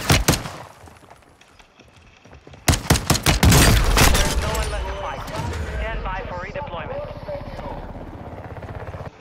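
Rapid gunfire rattles in the video game Warzone 2, loud clustered shots and bursts followed by a lingering rumble, with people talking over the action.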